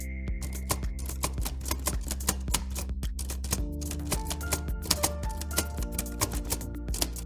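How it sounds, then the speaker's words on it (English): Typewriter keys struck in an irregular, steady stream of crisp clacks and taps close up, with an occasional bell-like ding, and no talking. "listening to a person type on a typewriter"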